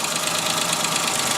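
Car engine idling with one injector unplugged, a loud, close, steady rough hum with a faint uneven knock running through it.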